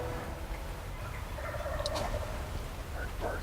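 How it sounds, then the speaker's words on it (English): Wild turkeys, jakes and a long beard, gobbling in the woods, one clear rattling gobble mid-clip and another faint call at the end, distant to moderate over steady outdoor background noise, no talking. "There are turkeys gobbling all around us"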